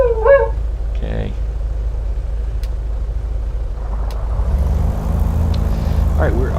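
The right engine of a Carenado PA-44 twin in the MSFS 2020 flight simulator catches partway through and settles into a steady droning hum, following brief talk over a constant low background rumble.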